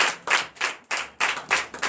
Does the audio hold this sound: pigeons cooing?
no